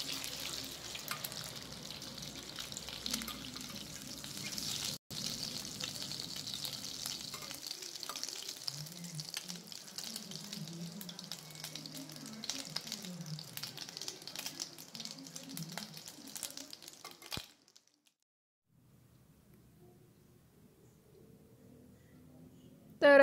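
Whole spices (bay leaf, cardamom, cloves and a small piece of cinnamon) fry in hot oil for egg masala, giving a steady crackling sizzle with a few stirring clicks. After a quiet gap near the end, a fainter, lower sizzle follows.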